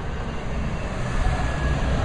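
A train rolls past, a loud continuous low rumble with rattling wheel noise and a faint high whine, steady throughout without talk.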